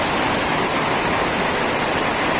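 Steady, loud downpour of heavy rain at night, an unbroken close hiss with no talking.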